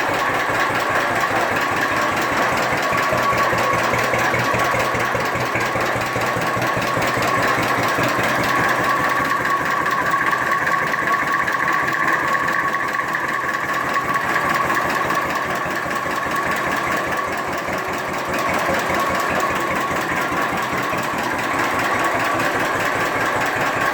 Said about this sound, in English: This is the day that I got it running for the first time.